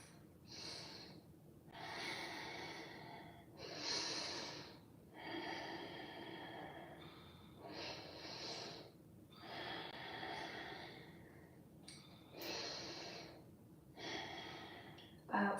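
Slow, deep breathing during a yoga pose, with long airy inhales and exhales repeating in a steady rhythm, soft and close against a quiet room.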